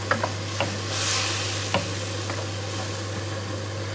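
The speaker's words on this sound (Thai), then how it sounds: "ใส่น้ำลงไป" Water pours into a hot pan of vegan tofu stir-fry with holy basil, making a steady broadband sizzling hiss with a few small clicks of stirring, close and without speech.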